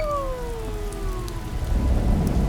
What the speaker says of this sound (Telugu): ఆకాశం వైపు చూడండి, పెద్ద వాన కురుస్తుంది కదూ